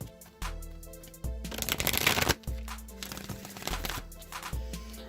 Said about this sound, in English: So let's just give these a couple more shuffles.